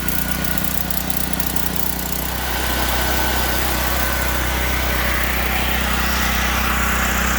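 A Gentron 10,000 watt generator engine runs smoothly with no load, making a loud, steady, close mechanical drone with constant vibration throughout and no speech.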